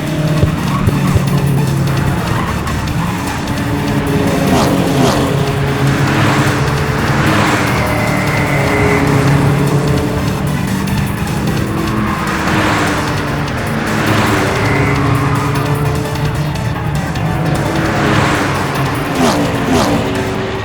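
Race cars speed through a car race, their engines roaring loud and continuous with repeated tire squeals and skids, while a commentator talks over the action.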